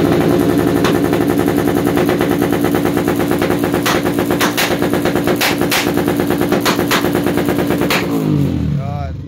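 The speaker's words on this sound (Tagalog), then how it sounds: "ganito yung backfire ng mga hindi pa natotono yung ECU" Motorcycle running an untuned ECU, its exhaust rattling off a loud, rapid string of backfire pops close by for about eight seconds before the engine cuts and the sound dies away.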